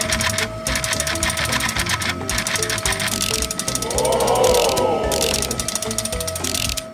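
A motorized LEGO Technic gripper mechanism runs close by, its plastic gears ratcheting and clicking in a fast continuous chatter with a brief rising whine of the motor midway.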